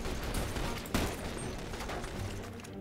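Video game gunfire from The Bureau, with muffled bursts of shots and one sharper crack partway through, set against a dense, noisy game soundscape with no talking.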